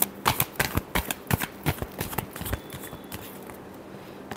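Tarot cards shuffled by hand, a quick run of crisp riffling slaps that grows softer and thins out after a few seconds, close by and without talk.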